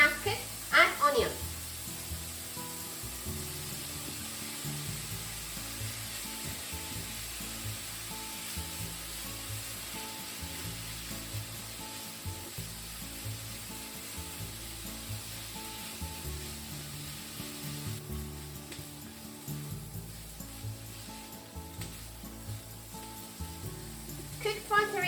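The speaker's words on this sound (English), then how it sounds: "Cook for 3 minutes or so, and both pork and onion are well cooked" Pork and onion cook in a pan for pork teriyaki, giving a steady, moderate sizzle that runs throughout under a soft, rhythmic backing with no pauses.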